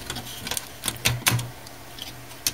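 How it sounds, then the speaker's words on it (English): A PCIe card pushed into a motherboard slot gives a quick run of close plastic clicks and taps, with two sharper snaps in the middle and a final tap, alone and fairly quiet. "I'll go ahead and drop this card in right here"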